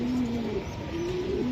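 Racing pigeons from a club flock, offered at a bird sale, coo in a low, steady, continuous murmur close by, with no talking over them.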